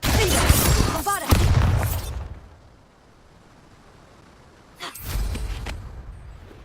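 Confringo and Bombarda explosion spells go off in Hogwarts Legacy: a loud, rumbling blast with crackling debris, a few seconds of near quiet, then a second heavy burst.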